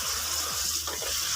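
Water pours in a steady, rushing stream into a pot of turnip curry, close and loud, with faint gurgles as it fills.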